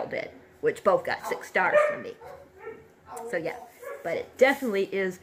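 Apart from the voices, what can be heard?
dog barking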